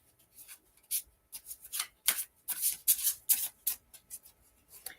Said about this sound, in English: So, I'm going to shuffle my cards.